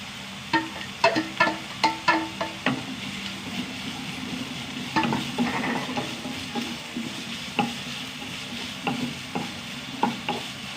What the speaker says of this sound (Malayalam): ചെറുതായിട്ടൊന്ന് വഴണ്ട് വരട്ടെ കേട്ടോ